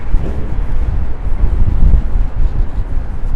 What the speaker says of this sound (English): Wow, it just got super windy.